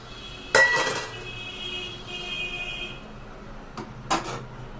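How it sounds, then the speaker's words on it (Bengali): A lid set onto a pot of chicken rezala, a sharp metallic clank followed by a faint ringing, then a couple of lighter knocks and a second clatter a few seconds later. "এই যে আমি ঢাকনা দিয়ে দিলাম"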